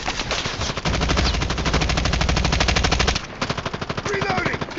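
RUS SMG fire in COD Mobile comes as a long unbroken rapid burst, loud and close, then gives way to shorter choppy bursts toward the end, with no speech over it.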